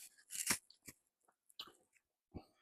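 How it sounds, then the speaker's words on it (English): Close crunching bites into a crisp baked meringue, a few irregular brittle crunches and softer chews separated by near silence, no talking. "I'm chewing on the part in the middle"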